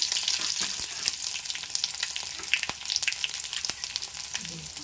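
Garlic, cumin and curry leaves fry in hot oil in a pan, a close crackling sizzle with frequent sharp pops and spatters, without speech.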